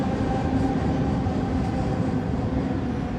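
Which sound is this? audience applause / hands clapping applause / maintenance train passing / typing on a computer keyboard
maintenance train passing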